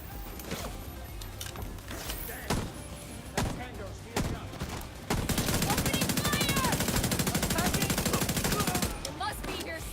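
Gunfire in The Division 2 arrives as scattered single shots early on, then a sustained rapid automatic burst for several seconds before easing into mixed shooting, loud and close.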